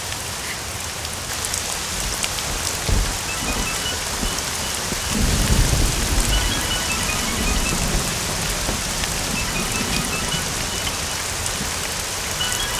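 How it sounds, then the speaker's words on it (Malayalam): Heavy rain pours steadily onto surfaces nearby, with thunder rumbling low partway through the downpour, and no voices. "ഇവിടെ ഭയങ്കര മഴയാ"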